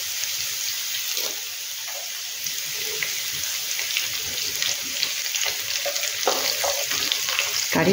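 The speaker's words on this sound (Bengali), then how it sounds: "রসুনটা একটু ভেজে নিয়ে এর মধ্যে কারি পাতা দেব।" Garlic frying in a pan with green chillies, a loud, dense, close sizzle that runs steadily throughout, with faint stirring scrapes underneath.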